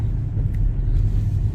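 A 2024 BMW X5 xDrive40 drives through a first snowstorm, heard as a steady low engine and road rumble from inside the cabin, continuous and even, with no voices.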